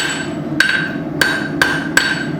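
Four sharp hammer blows ring out on hot metal, unevenly spaced, as a taper is forged on a small necklace hanger piece of bandsaw-cut stock.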